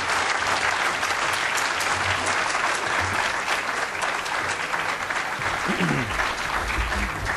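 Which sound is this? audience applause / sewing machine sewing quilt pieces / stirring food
audience applause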